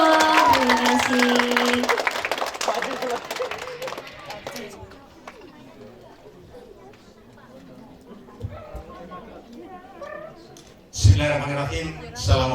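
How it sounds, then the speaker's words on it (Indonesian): An audience at a gala film premiere applauds: clapping swells near the end after a stretch of quieter background, with a loud burst of crowd noise and a voice speaking over the hall. "boleh kasih tepuk tangannya dulu dong"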